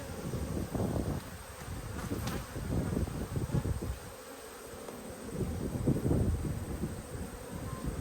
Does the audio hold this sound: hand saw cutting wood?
no